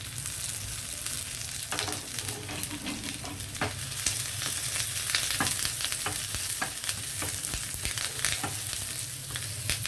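Cumin, mustard seeds, dried chilies and curry leaves crackle and sizzle in hot oil, a steady loud hiss with scattered sharp pops of seeds spluttering throughout.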